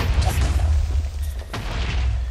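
Explosions in a video game rumble as deep, muffled booms that roll one after another, with a softer thud partway through and a steady low roar underneath.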